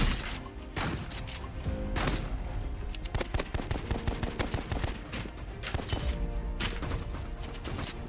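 Rapid, loud bursts of automatic gunfire and single shots fill the scene in the shooter video game Rivals, nearly continuous with brief pauses and some thumping impacts.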